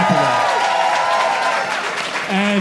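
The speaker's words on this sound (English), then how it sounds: "Clap it up for that." An audience claps and cheers at a lively Juneteenth celebration, the applause loud and sustained throughout, with voices mixed into the crowd noise.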